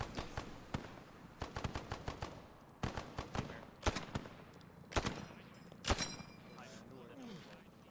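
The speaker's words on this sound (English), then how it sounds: "I'll lay down suppressive fire." Suppressive gunfire in the military shooter ARMA 3: rapid bursts and single cracks of automatic fire, fairly close and sharp, coming in irregular clusters with short pauses between them, over faint background ambience.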